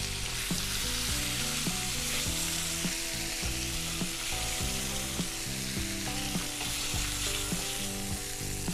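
Meat getting a light sear in a frying pan, a loud, constant hiss of hot oil filling the background while faint tonal music plays underneath, with no talking.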